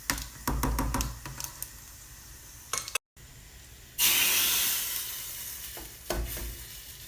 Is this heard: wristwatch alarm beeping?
no